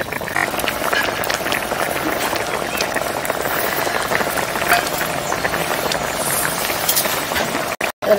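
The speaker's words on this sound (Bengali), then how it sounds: "আস্তে আস্তে সিদ্ধ হোক, জলটা দিয়ে দিচ্ছি, আর ফুটতে থাক" Water bubbling away in a pot over village cooking heat, making egg curry; a steady, even rolling simmer runs throughout at close range, with no talking over it and a short break near the end.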